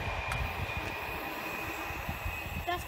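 A British Rail Class 350 electric train sits at Berkhamsted station, giving a steady electric whine and low rumble with faint clanks, plus a brief chime-like tone near the end.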